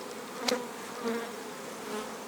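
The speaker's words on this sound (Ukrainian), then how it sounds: "Бджола йде на ліс як літом." Steady low buzzing of honeybees outdoors, fairly faint, with a few slightly louder passes as insects fly close by.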